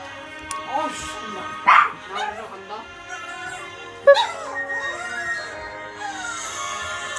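A dog barks and yips in a few sharp, nearby bursts while a person talks and game sounds play.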